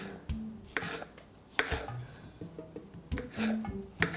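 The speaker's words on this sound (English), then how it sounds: "cut the tomato, take out that little bit there, and cut it into chunks" A knife chops through tomato on a cutting board in irregular, close-up thuds, several cuts spaced unevenly, fairly quiet with no talking.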